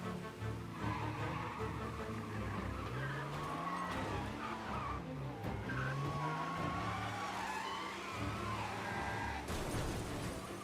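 In the video game Mafia Definitive Edition, a car's engine roars while its tires squeal and skid at length in a crash sequence, with loud, sustained engine drone and shifting tire screeches and no voices.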